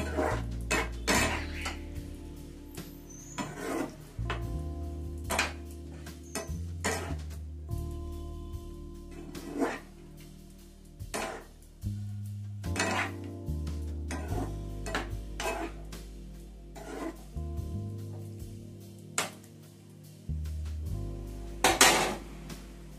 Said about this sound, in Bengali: আমি মাংসটাকে একটুখানি নেড়ে নিচ্ছি